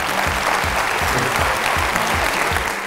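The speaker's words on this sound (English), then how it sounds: "So give yourselves a round of applause." A room full of nutrition services staff at a back-to-school welcome event applauds with steady, dense clapping that stays loud and even throughout, with no talking over it.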